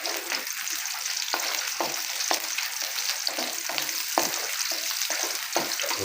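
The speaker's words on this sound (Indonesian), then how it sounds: "Kita tumis bawang cabai merah besarnya juga." Shallots and large red chilies stir-frying in a pan for a Javanese tilapia pesmol, a steady close sizzle with short stirring scrapes and bursts recurring every second or so.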